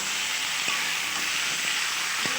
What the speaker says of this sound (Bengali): মশলাটা দিয়ে ভালোভাবে একটু নেড়ে ফেড়ে সামান্য কিছুক্ষণ কষিয়ে নেব